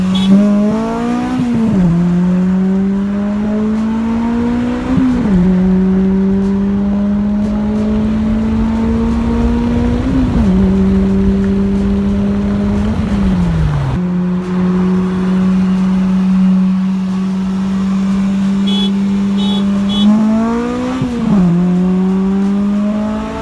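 A Toyota Celica GT-S with a missing third gear races a 3.3 Solara. Its engine drones loud and close, climbing steadily in pitch, then drops at each of several gear shifts before pulling hard again.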